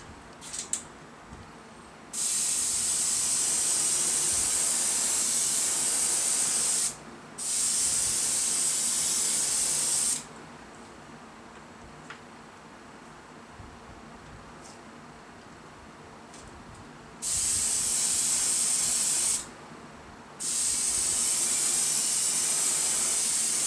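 An aerosol can sprays paint onto a scale model piece in loud, steady hissing bursts of several seconds each, separated by quiet gaps with a faint background hum.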